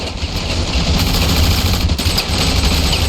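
Machine gun fire in the video game Ravenfield, a dense continuous rattle of rapid shots, loud and close, with scattered battle noise behind it.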